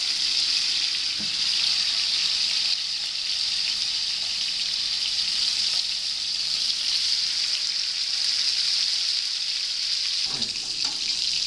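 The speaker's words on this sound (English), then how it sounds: "steak on. If it doesn't make this noise, take it off the pan. It has to make this noise." Steak sizzles steadily in a hot frying pan, a loud continuous hiss and crackle running throughout, with a couple of brief clinks near the start and end.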